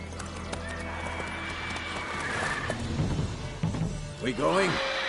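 A horse gallops in The Witcher 3: Wild Hunt, with rhythmic hoofbeats, a neigh and game music and effects, while a voice calls out briefly near the end.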